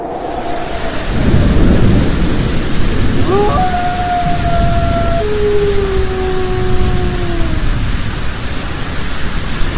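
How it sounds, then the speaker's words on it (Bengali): A cartoon thunderstorm with rain and strong wind: a steady, loud roar of rain and wind with deep thunder rumbles, and a few sustained tones partway through. No one speaks. "বৃষ্টি আসবে মনে হয়, প্রচুর বাতাস"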